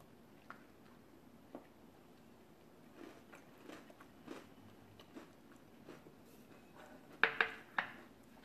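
Someone bites into and chews homemade cookies and cream nearby, with scattered soft crunches and mouth sounds spread through a quiet stretch, a few sharper crisp bites near the end.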